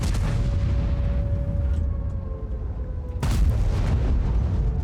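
Heavy tank guns boom in a World of Tanks battle, a loud rumbling blast fading out before a second sudden, forceful shot lands near the end, with no talk over it.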